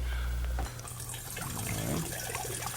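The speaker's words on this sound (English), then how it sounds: "I've pre-measured 20 cups of cold water. Okay? So we just add that to our carboy." Cold water poured from a container into a carboy for brewing a Cooler Quik batch, a steady close splashing and gurgling fill with a low hum under the first moments.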